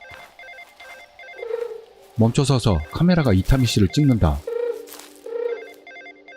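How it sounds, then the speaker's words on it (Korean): A telephone rings with short repeated bursts in a quiet scene, broken by a long stretch of clear speech in the middle and then returning faintly afterward. "문득 전화벨 소리가 들렸다"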